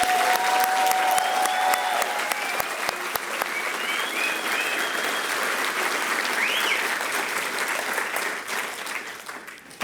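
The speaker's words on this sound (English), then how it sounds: "Can we give them all one big round of applause?" Audience at a school graduation ceremony applauds in a long, even burst of clapping that fades slightly toward the end, with a little crowd noise mixed in.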